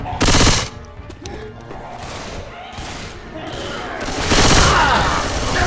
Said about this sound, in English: I'm gonna shoot the shit out of